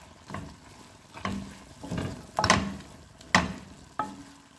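A spoon stirs ginataang papaya with chili leaves and onion in a pan, giving about seven soft scraping strokes at a steady pace over a quiet simmer, close and alone.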